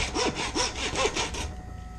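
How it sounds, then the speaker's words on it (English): Bone saw cutting through muntjac bone during home butchery, a close rasping stroke repeated about five times in steady rhythm before stopping, with faint noise after. "you get your bone saw and you cut straight through, and you saw until you can hear the change in tone from bone to meat"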